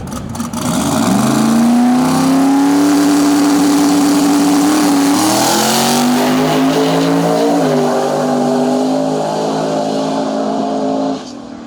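Small tire drag race car launching and running down the strip at a Canadian drag event, a loud, close engine roar rising in pitch through gear changes and holding for about ten seconds before cutting off abruptly.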